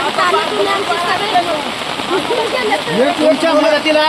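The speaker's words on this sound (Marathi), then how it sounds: "आता ही काल रात्रीपासून पाऊस पडतोय" Steady heavy rain pours down in a constant hiss over a flooded settlement while voices talk over it.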